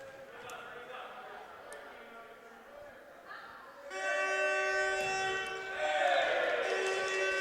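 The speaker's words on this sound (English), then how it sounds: "Straight up got an air horn going here." A loud, sustained air horn blares over a noisy, echoing gym crowd at a men's volleyball match, holding steady for a few seconds before the clip ends.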